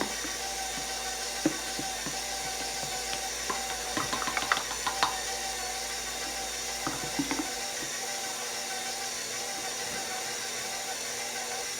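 A stand mixer works bread roll dough, a steady mechanical whirring hum with irregular light clicks and knocks as the dough turns in the bowl, with no talking.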